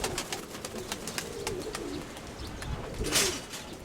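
Soft pigeon cooing over a low, noisy outdoor rumble, with a few sharp clicks and a brief rustling burst near the end.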